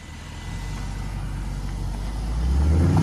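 A 2022 Land Rover Defender 90 drives off-road, its engine a low steady rumble that swells slightly louder toward the end, heard alone without talk.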